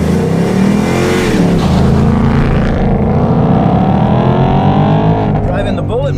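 A 480-horsepower Ford Mustang Bullitt V8 drives hard, its loud engine note climbing and surging steadily throughout while a voice talks over it.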